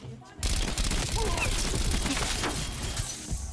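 Gunfire in the video game Call of Duty Cold War, a continuous dense burst of rapid shots that starts abruptly and carries on loud and close, with voices now and then.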